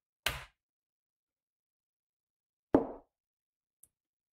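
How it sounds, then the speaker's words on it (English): Two sharp, isolated knocks on a hard surface sound close and loud, about two and a half seconds apart in silence, followed by a tiny faint tick. "And I will train now a knock."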